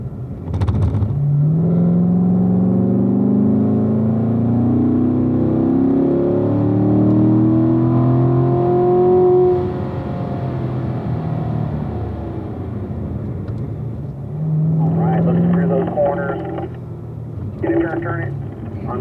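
A Corvette at a track driving school hums and rumbles steadily from inside the cabin as the engine pitch rises and then eases off, with an instructor's voice coming over it near the end.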